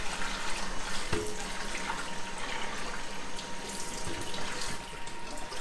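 A Siemens coffee machine part is rinsed under a warm running tap, a steady close splashing hiss of water that keeps going throughout with small clunks.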